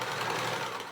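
A sewing machine runs steadily while stitching a small curve on a pouf cover, giving a continuous close whirring drone for the whole second with no pauses and no talk.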